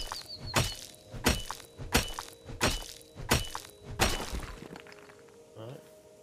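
A rock is harvested in the survival crafting game Tales of Morrow, making six sharp, evenly spaced cracking impacts about two-thirds of a second apart, loud and close, followed by a brief lighter rattle.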